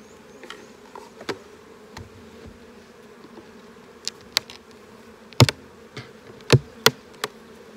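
Honey bees around an open hive during an inspection, giving a faint steady hum with scattered sharp clicks and knocks of equipment on wood, no voices.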